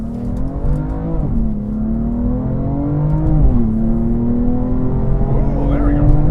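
A BMW M3 sports car accelerates hard, its engine note climbing steadily in pitch, dropping at each gear change and climbing again, loud and close from inside the cabin with excited voices over it.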